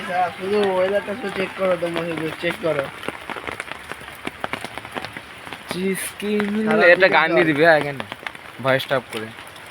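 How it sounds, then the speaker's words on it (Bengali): Rain falls outdoors near a village temple, a soft patter of drops and splashes heard beneath people talking throughout. "চলো তোমাদের আজকে বৃষ্টির ওয়েদারটা দেখাচ্ছি বাইরে"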